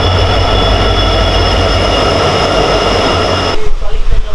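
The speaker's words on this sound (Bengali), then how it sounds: "আমাদের ট্রেন প্ল্যাটফর্মে ঢুকে গেল, স্টেশনে ঢুকে গেল।" A train pulls into a station platform in Assam, a loud close rumble with squealing wheels and a steady metallic drone, then a sudden drop to quieter, uneven clatter as it settles; voices are faintly present.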